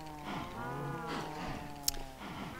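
Minecraft cows mooing, several low drawn-out moos in close succession, fairly faint with a brief click near the end.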